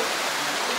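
Akasaganga waterfall at Tirumala gives a steady, broad rush of falling water, loud and close, holding even throughout a brief moment with no break.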